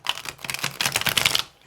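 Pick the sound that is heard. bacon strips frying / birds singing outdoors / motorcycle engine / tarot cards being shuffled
tarot cards being shuffled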